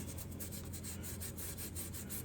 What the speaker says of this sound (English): get some Scotch-Brite and kind of just clean that up real good